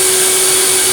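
Goblin Aquavac Multisystem 3000 vacuum cleaner running, a loud, close, steady motor roar with a sharp constant whine, heard alone for about a second.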